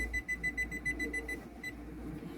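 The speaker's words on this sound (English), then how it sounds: "Put my timer on." A kitchen timer being set gives a quick run of about a dozen short electronic beeps, then falls quiet, faint and close in a kitchen.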